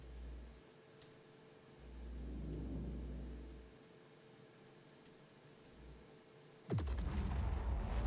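In the Star Citizen video game, a quiet engine rumble rises and falls until a bomb bursts on the ground with a sudden, loud, close blast whose heavy roar carries on to the end.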